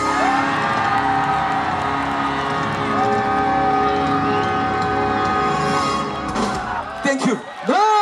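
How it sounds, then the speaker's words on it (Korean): At a performance during the Goseong scallop seafood festival, a large outdoor crowd cheers and whoops loudly and without a break, with shouts layered over the sustained roar before it drops off near the end. "끊임없는 박수와 함성 쏘세요"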